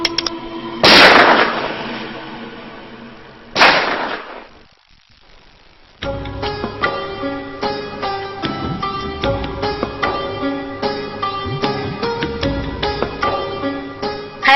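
Two sharp, loud gunshots ring out a few seconds apart, followed by a quiet gap, then steady music with a regular beat.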